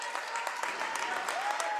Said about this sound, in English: Abby Johnson getting a round of applause from the Carver fans and her coaching staff